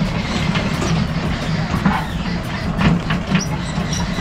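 A tour train for viewing animals rolls through a camp in Phetchaburi, giving a steady rumbling and rattling ride noise with faint clatter, while someone talks over it.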